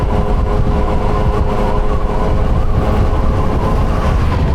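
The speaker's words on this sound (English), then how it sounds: "So we are definitely going into the wind right now." Wind blasts straight into the microphone while riding into a headwind in Bermuda, a loud, constant low roar and rumble that fills the whole stretch without letting up.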